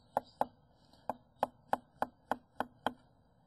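A knife minces shallots on a cutting board in a kitchen: nine sharp, close chopping knocks in a steady, slightly uneven rhythm, with quiet gaps between strikes and no talking.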